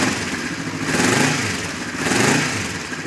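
A stock 2009 Kawasaki Vulcan 500 motorcycle engine runs close by, a steady rumbling idle with slight swells in loudness and no talking.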